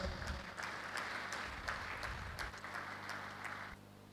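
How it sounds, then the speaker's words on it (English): Audience applause at a university founders' day ceremony, a steady wash of many hands clapping that runs for about four seconds before thinning out, with a low hum underneath. "Can we give him another round of applause?"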